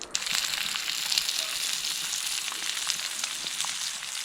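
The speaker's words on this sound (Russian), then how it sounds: "Редис жарится моментально." Radishes fry in a pan with a steady, dense sizzle and crackle, close and fairly loud, continuing without pause and with no voices.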